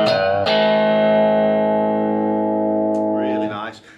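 An Epiphone Les Paul Prophecy guitar played through a VOX VT40X amp on a distortion setting: two struck chords ring out and sustain with a gritty, slowly fading tone, then a brief, warbling sound closes it.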